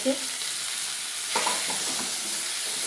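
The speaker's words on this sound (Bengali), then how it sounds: "দিয়ে আবারও কিছুক্ষণ ভাজতে থাকবো" Fish frying in a pan with browned onion and garlic, a steady close sizzle with stirring scrapes and a brief louder burst midway, no voices.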